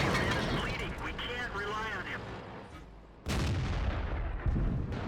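Tank cannon shots boom in World of Tanks, with heavy gunfire and blasts at the start and another sharp shot partway through, under game noise.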